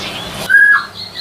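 A cigun songbird kept in a cage, offered for sale as a full set, gives a short, clear whistled call that follows a burst of noise, with fainter chirps after it.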